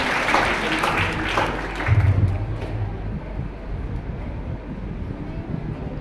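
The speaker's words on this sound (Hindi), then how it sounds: "मैं तालियां बजवाना चाहूंगा।" Students clap at a girls' college India Space Week event in Ghaziabad. The brief burst of applause lasts about two seconds, then fades into a low, wind-like rumble.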